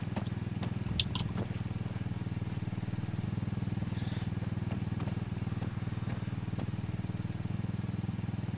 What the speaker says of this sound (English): go-kart's running on the other side of the wall by sounds of things